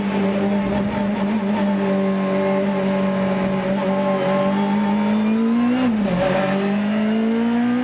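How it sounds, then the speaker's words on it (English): A Lancia Beta Monte Carlo Turbo race car at the Spa-Classic historic race drives past with a loud, sustained engine drone. Its pitch climbs steadily, then dips sharply at a gear change before rising again. "a Lancia Beta Monte Carlo Turbo driven by Franco miners"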